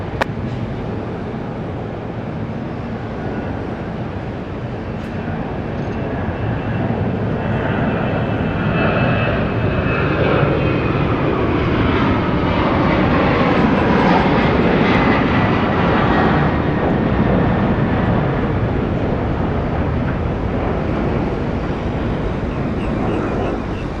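A Jetstar airliner lands on runway 34 left, its engine roar swelling steadily from distant to loud and near, then holding as a broad sustained rumble.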